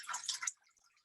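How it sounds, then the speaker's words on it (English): Water splashing and pouring into a big bowl for a simple science demonstration, a short close burst of liquid sound lasting about half a second, then only faint drips and trickles. "I am going to put some water in my bowl"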